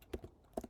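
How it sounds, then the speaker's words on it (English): Keys on a computer keyboard are tapped to enter a six-digit authentication code, a few light, close clicks in two small bursts with a quiet pause between. "6-digit number which I'm just typing in front of you"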